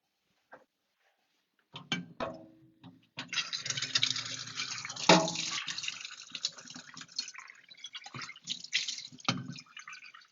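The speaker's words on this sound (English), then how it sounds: "So we need pot for the water for the pasta. Let me take some water here." Tap water runs into a pasta pot in a home kitchen, a steady splashing stream with a few drips and clanks before it, close by and alone with no talk.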